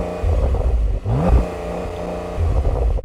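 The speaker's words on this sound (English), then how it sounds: "Now the Porsche 911 Turbo S isn't known for having the most fruity exhaust" A Porsche 911 Turbo S with a 3D-printed Inconel exhaust revs up sharply, climbing in pitch, then drops back and holds a throaty rumble before another short rise; close and loud, with no talk.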